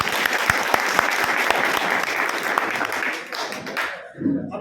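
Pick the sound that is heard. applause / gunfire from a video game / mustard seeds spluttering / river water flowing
applause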